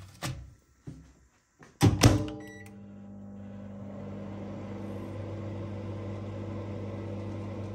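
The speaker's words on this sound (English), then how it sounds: "let's stick it back in the microwave" A microwave oven heating a chicken chow mein ready meal: a few knocks and a door thump as it is shut and started, then a steady low hum and whir that continues evenly.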